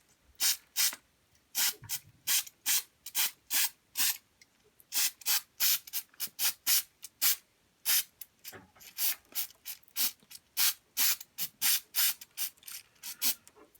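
Hairspray or adhesive is sprayed from a can onto upturned 00 scale model trees in a steady run of short, crisp hissing bursts with brief gaps between them, close and fairly loud, with no talking.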